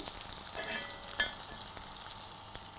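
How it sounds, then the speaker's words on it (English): Beef pieces browning in the bottom of a pan for boeuf bourguignon give a soft, steady sizzle and crackle at moderate to low level, with one brief louder pop partway through and no talking. "Place them well in the bottom of your pan and let them brown"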